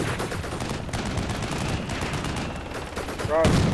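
Machine gun fire in the Combat Mission Black Sea war game, a dense sustained crackle of rapid shots on a building, heavy and continuous throughout and swelling slightly at the end, with a voice speaking briefly over it.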